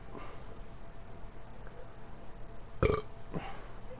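A loud, rough burp right after chugging a beer, one strong belch near the end and a softer follow-up just after, over a low background hum.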